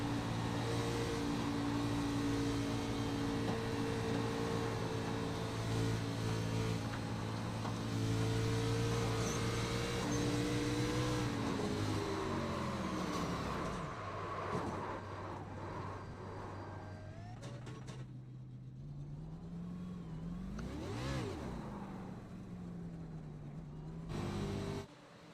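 Onboard engine of the 32 race car in a racing video game at Homestead-Miami, a loud continuous high-revving drone that holds steady, then drops and shifts pitch as the car slows and revs back up.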